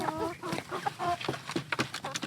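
Several farm chickens on rationed feed cluck and call near the microphone in a steady, overlapping chatter of short rising and falling notes, with no talk.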